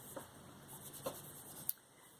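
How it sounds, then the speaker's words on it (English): A wet microfiber cloth wipes across a reusable Rocketbook notebook page, making soft brushing rubs with a few short scuffs and a sharper swipe near the end, quiet and close. "take a wet cloth and just wipe it off"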